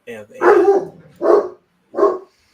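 A dog barks three times in close, loud, separate bursts with short pauses between them, heard indoors without other voices.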